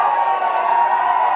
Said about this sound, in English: You can hear the cheering in the background.